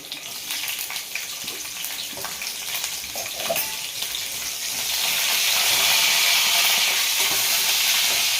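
Chopped onion and green chili hit hot oil already crackling with cumin and mustard seeds, the sizzle starting as a soft, uneven crackle and swelling into a loud, steady hiss after a few seconds.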